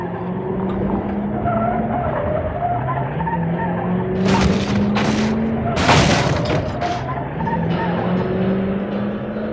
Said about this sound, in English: How is that truck driving with no tires?